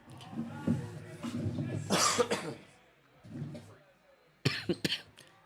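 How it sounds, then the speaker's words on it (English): Several harsh coughs break out close to the microphone, a cluster in the middle and another burst near the end, mixed with faint voices. "Excuse my cough, because it is just going to continue to get worse."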